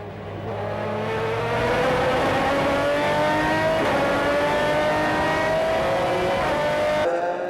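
A Le Mans race car run by the TWR team enters the pits, its engine winding up in a loud, rising whine that holds close and strong for several seconds, then cuts off sharply.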